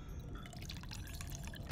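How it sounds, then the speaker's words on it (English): Mana flask being crafted in the game Battle Chasers, with liquid pouring and trickling into a glass in a bright, continuous splashing stream, close and moderately loud, alone without talk. "I still have to listen to someone pee into a glass every time I want to create one"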